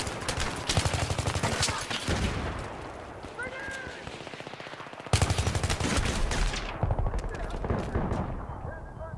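Assault rifle gunfire in Battlefield 3: rapid bursts of automatic shots with a brief lull mid-way, then more sustained firing, loud and close, under a voice talking throughout.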